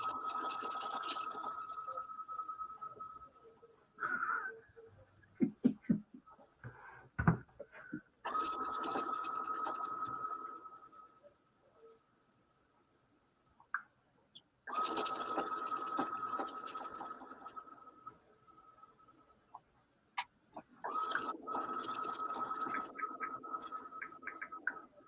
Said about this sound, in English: now I'm sewing the bottom for my double stitch